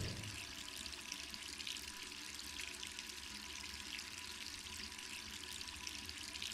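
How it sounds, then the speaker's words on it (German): Water runs from a tap in the Resident Evil 3 Remake video game, a steady, continuous hiss and rush that stays faint and even throughout, with no talking. "Läuft wirklich wieder das Wasser."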